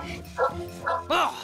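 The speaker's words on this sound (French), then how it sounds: "c'est vous qui avez fait aboyer Georges?" A cartoon dog gives three short, yappy barks in quick succession, close and clear, with a voice briefly speaking beneath.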